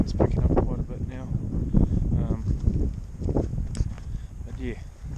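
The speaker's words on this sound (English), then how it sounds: "Bloody wind's picking up quite a bit now." Strong wind gusts buffet the microphone on an open New Zealand mountainside during a deer hunt, a steady loud roar with rustling, while someone talks over it.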